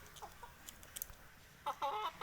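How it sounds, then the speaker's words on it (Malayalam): Native country hens of a brooding-suited breed at a poultry seller's farm in Tirunavaya, Malappuram, clucking in short scattered bursts, with a louder cluster of calls near the end over low background noise. "അട വെച്ചു കൊടുക്കാൻ പറ്റിയ നല്ല നാടൻ കോഴികളാണ്"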